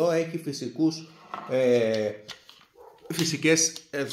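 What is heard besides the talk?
dog barking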